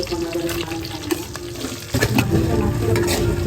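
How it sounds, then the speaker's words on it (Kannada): Onions fry in a pan with green chillies for an egg curry, a continuous close sizzle broken by frequent scraping stirs of a spoon. "ಈರುಳ್ಳಿ ಚೆನ್ನಾಗಿ ಬ್ರೌನಾಗಿ ಆಗೋವರೆಗೂ ಫ್ರೈ ಮಾಡಬೇಕು"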